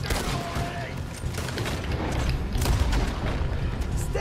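Gunfire in Red Dead Redemption 2, rapid shots and booms over a dense, loud game soundscape, with voices talking.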